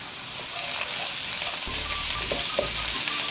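Chopped lamb karahi curry ingredients stirred in a hot pan over high heat, a loud continuous sizzle broken by a few scraping, clunking stirs close up.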